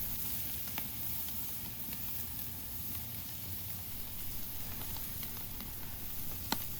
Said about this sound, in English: All I'm doing right now is searing the steak to get that crispy charred surface.